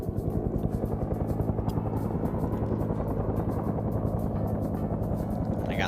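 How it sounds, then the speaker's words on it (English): A video game helicopter's rotor thumps rhythmically and steadily as it circles nearby, a loud, continuous chopping drone with no voices. "got this random helicopter going around"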